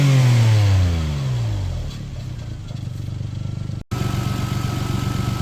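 A warmed-up engine turning over and settling into a steady idle, starting with a falling rev from a higher pitch, then running evenly and close, with one brief dropout near the end and no talking.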